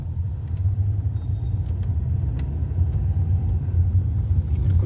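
A Hyundai car driving in second gear on a road test, heard from inside as a steady low engine and road rumble with no pauses, fairly loud throughout.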